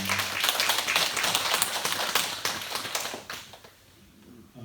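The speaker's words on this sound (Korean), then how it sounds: "함께 하신 하나님 앞에 박수로 한번 영광 드리겠습니다" A Korean church congregation claps together at a Sunday service, a dense burst of hand claps that fades out toward the end.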